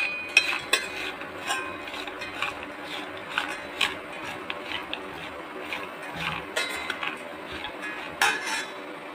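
Green gram sprout salad with asafoetida is mixed in a bowl, producing repeated light clinks and scrapes of a spoon against the bowl, with some quiet voice in the background.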